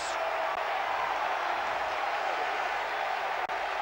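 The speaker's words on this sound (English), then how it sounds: "And the crowd go wild here in Oporto" Football crowd in a stadium in Oporto roaring and cheering after a goal in a Euro 1996 qualifier, a dense, sustained wall of noise from start to finish.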